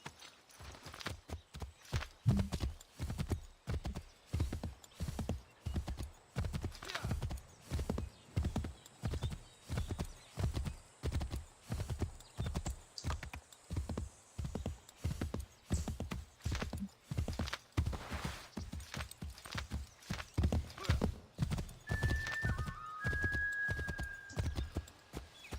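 Hoofbeats of a horse in the video game Assassin's Creed 3, a steady, loud clip-clop rhythm of a running gait lasting throughout, close and continuous, with a brief high synthetic tone near the end and no talking.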